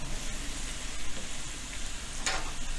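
Pork shank sizzles steadily in an All-Clad pan, a continuous close frying hiss with a brief sharper crackle near the end.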